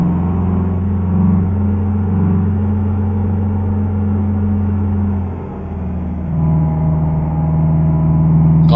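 A Renault 9, an older car, pulls away and builds speed on a motorway in Euro Truck Simulator 2. Its steady mid-pitched engine drones loud and close and rises with each gear. Near the middle it dips briefly, then climbs again.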